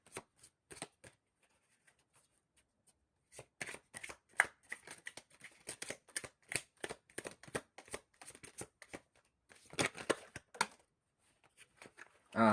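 A deck of oracle cards shuffled by hand: long run of quick, crisp riffling flicks and slaps, close and fairly loud, in uneven bursts with brief pauses, no talking.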